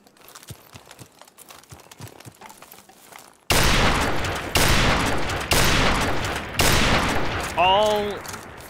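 Loud gunshots from the Call of Duty 4 video game, in a one-on-one match, fire in a rapid burst of about five heavy blasts after a quieter stretch of faint distant shots, with a voice briefly heard near the end.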